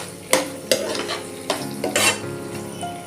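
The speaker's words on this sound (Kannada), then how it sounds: "ರುಬ್ಬಿ ಫ್ರೈ ಮಾಡ್ಕೊಂಡಿದ್ನಲ್ರಿ, ಆ ಪೇಸ್ಟ್ನ ಹಾಕೋತೀನಿ. ಹಾಕಿ ಇದನ್ನು ಚೆಂದಾಗಿ ಫ್ರೈ ಮಾಡ್ಕೊಂಡು" A ground spice paste stir-fried in a pan for vegetable fried rice, with sharp spatula scrapes and stirring strokes at irregular intervals over a steady close sizzle.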